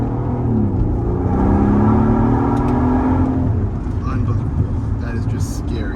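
A Mercedes SL65 accelerates on a winding road, its engine note rising in a steady climbing drone as the car gathers speed, with road and wind rumble underneath.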